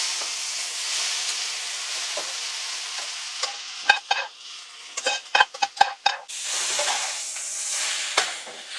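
Garlic frying on high heat for pasta, a bright hissing sizzle interrupted midway by a quick burst of sharp pan clatter and stirring scrapes before the steady sizzle returns, close with no speech.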